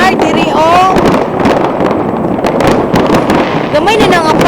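Fireworks bursting over Copenhagen, Denmark, a dense run of loud cracks and booms with whistling rockets rising, while people talk over the continuous display.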